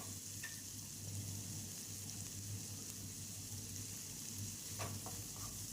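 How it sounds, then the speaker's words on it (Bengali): Onions salted lightly sizzle softly in a pan as they fry until reddish-brown, with occasional light scrapes and clicks of a stirring spoon over a low steady hiss and no voices. "এবার আমি পেঁয়াজগুলোকে লাল লাল করে ভেজে নিচ্ছি"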